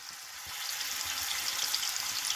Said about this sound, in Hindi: अब इसमें हम डालेंगे ये जो हमने मैरिनेट करके चिकन रखा था, उसको ऐड करेंगे